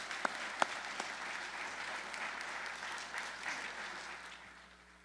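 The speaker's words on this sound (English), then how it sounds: "So how about a round of applause in Anita's here." Audience applause at a Salvation Army basketball court dedication, a dense steady round of clapping with a few sharper claps near the start, filling the space before slowly tapering off.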